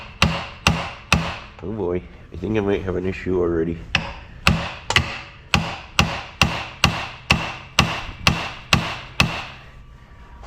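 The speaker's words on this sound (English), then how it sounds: "Get my hammer and just start tapping a little." Hammer tapping on a CVT double reduction part, struck in a steady run of sharp metallic blows, about a dozen evenly spaced near the close, with someone talking briefly between the early strikes.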